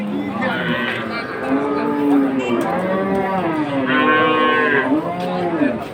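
Dairy cows and calves at a cattle market in Shariatpur moo loudly and close by, several long drawn-out calls overlapping one after another amid market background noise.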